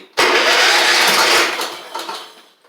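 A Troy-Bilt Horse XP garden tiller engine cranks with a harsh, loud whirring burst that holds for over a second, then fades and stutters as it fails to catch.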